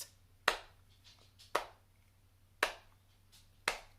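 Four sharp, evenly spaced clicks or slaps, made by hand to imitate footsteps, with short silences between them.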